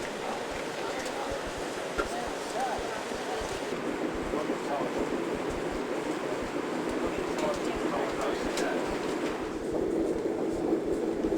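Interior rumble of a passenger train rolling through the wilderness between The Pas and Churchill, Canada, a steady broadband roar with faint rhythmic clicks of the rails, continuous and fairly loud throughout.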